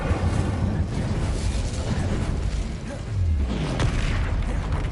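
Fiery Confringo spell blasts in Hogwarts Legacy on PS5, a dense run of deep booming bursts that rumble continuously and loudly, with a swelling low impact near the middle.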